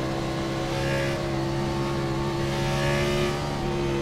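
Race cars roar in a steady, loud engine drone at an auto racing event on a Michigan track, with no clear pass-by peak.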